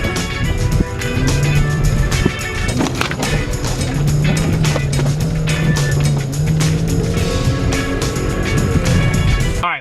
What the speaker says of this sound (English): the car really hates redline. It really gets angry and sounds pissed off when you do that.